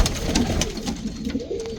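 A muff-legged pigeon cooing while being held in the hand, its soft low coos repeating close by, with rustling and handling noise mixed in.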